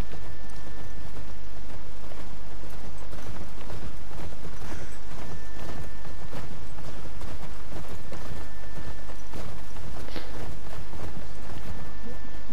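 Horse hooves in the video game The Last of Us Part 2: a loud, dense run of clopping hoofbeats under a constant hum of game audio, with voices speaking now and then.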